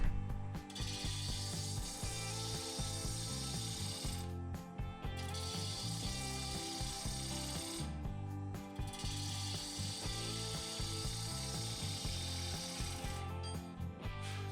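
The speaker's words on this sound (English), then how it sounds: "I've switched to my 3/8 inch bowl gouge to start shaping the bottom." A 3/8 inch bowl gouge shapes the bottom of a spinning bird's eye maple bowl on a lathe, producing a continuous, loud, chattering wood cut close by, broken by a few short gaps.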